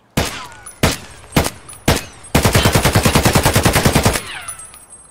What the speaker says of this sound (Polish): Dobra, to strzelam w nogi.